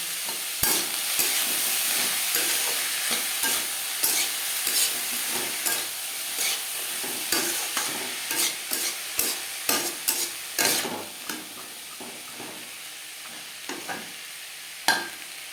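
Spices with salt and turmeric fry and get stirred in a pan for a fish curry, a continuous hiss of sizzling oil broken by repeated scraping strokes of a spoon, close and alone.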